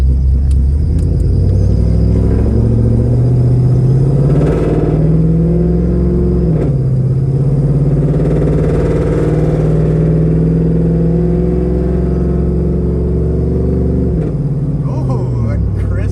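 A built WS6 car accelerates hard with a loud, low engine roar that climbs in pitch, breaks with a quick gear shift, then pulls again, while people talk inside over the rumble.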